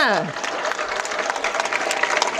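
Audience applause fills a hall during a Tamil speaker's lecture, a sustained burst of clapping at steady loudness from start to finish.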